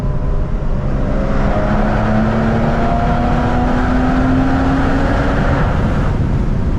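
A Porsche 996 engine droning loudly and steadily while driving through a tunnel on Angeles Crest Highway, its tone slowly rising with a smooth, enveloping roar and no talk.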